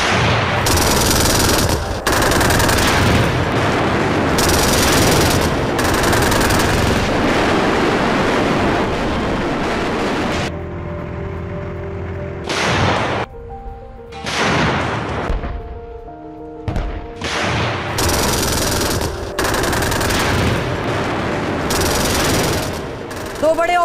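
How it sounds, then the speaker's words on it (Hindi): A tank-mounted machine gun firing in long bursts: loud, close, rapid repeated reports that stop and start, separated by brief pauses and quieter mechanical and ambient stretches. "आईडीएफ ने टैंक पर लगे मशीन गन से किया फायर"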